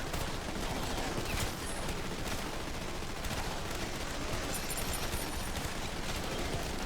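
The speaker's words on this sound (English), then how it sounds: "I hear a mangler firing at me." A Mangler fires at the player in Dead Ops Arcade 4, a dense, continuous barrage of gunfire sounds filling the whole stretch at steady loudness, with no talk over it.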